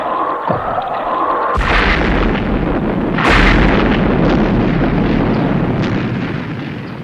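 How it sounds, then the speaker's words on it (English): Missiles being fired and exploding, with a low rumble followed by two heavy booming blasts a couple of seconds apart, each trailing off into a long rolling roar. "Yes, but he's just suggested they should fire missiles."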